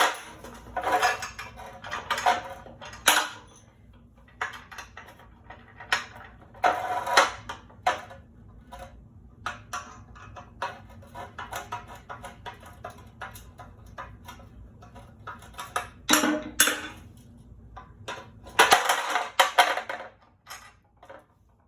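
Metallic clinks and ratcheting clicks from a socket wrench fitting a Magliner 301019 24-inch aluminum folding nose extension onto a moving dolly, with scattered taps, rattles and scrapes between quiet gaps.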